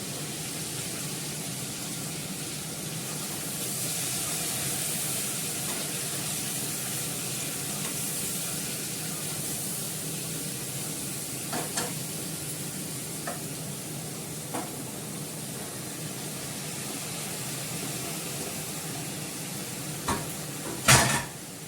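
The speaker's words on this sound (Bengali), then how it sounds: "পুরো এঁচোড়টা দিয়ে দেবো, নাড়িয়ে দিচ্ছি।" Young jackfruit fries with spices in a pan under steady, close sizzling that lasts throughout, broken by occasional clinks and scrapes of a spoon stirring, with no voices.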